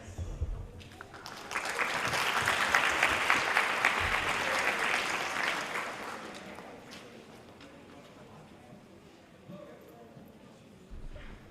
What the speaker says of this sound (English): Another round of applause for our literacy folks.